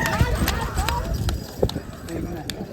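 Rapid hoofbeats of small young bulls racing past in a bullock cart race, a quick drumming gallop mixed with crowd shouting and chatter nearby.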